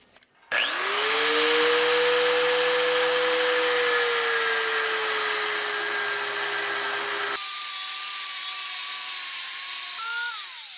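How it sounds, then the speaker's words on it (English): An abrasive cutoff wheel slices through metal sheet on a GM A-body door during a power window conversion, a loud, steady high whine held for several seconds before the pitch and load shift as it breaks through. "all we're going to do is come in with the cutoff wheel, just like this, nice and flat"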